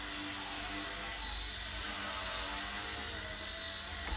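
Eachine E129 RC helicopter with altitude hold flying indoors in a confined space, a steady high-pitched whine of small motors and rotors, close and constant throughout.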